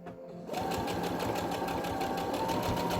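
Sewing machine stitching back and forth to secure ruffles on children's pants, a steady close mechanical whir that starts after a brief quiet moment and runs evenly to the end.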